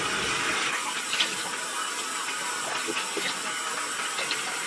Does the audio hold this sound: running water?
yes